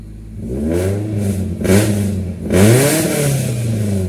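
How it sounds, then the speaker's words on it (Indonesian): A 1993 Toyota Corolla SEG engine revs through an aftermarket header exhaust, with three loud, close blips rising and falling over a steady idle and no talking. "Ini header dari depan sampai belakang, jadi suaranya seperti itu."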